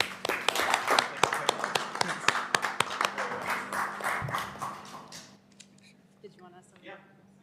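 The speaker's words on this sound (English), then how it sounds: "Let's give them one more round of applause, guys." A round of applause from a school board meeting audience, with sharp, close individual claps that thin out and stop after about five seconds, then quiet murmuring voices.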